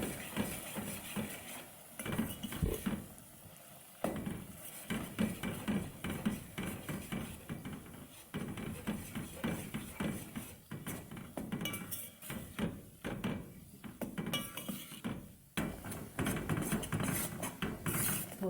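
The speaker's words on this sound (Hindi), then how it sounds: "अब हम इसमें डाल देंगे सूजी, इसको अच्छी तरह भून लेंगे सूजी को" Semolina being roasted in ghee and sugar in a pan for a brown halwa, with busy clattering metal scrapes and knocks of a spoon against the pan, close and nearly constant.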